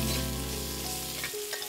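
Pork and snails stir-fried in a pot, a loud, close, steady sizzle with scraping as they are stirred, heard alone in a short burst.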